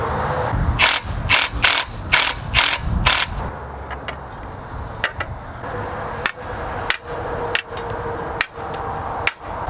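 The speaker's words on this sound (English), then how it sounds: "A little tap on those carriage head bolts helps set that square portion of the head so it doesn't turn when you tighten the nuts." A ratchet wrench tightens nuts onto stainless carriage bolts on a restored bench, a close run of rapid clicking strokes followed by slower, sparser clicks and a few sharp metallic taps, with no talk.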